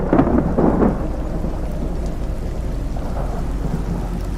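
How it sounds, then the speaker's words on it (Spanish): Heavy rain pours steadily with deep rumbles of thunder, the loudest rolls early on, then a dense, continuous downpour without any voices. "la torrencial lluvia se estrellaba contra las ventanas como las olas del océano"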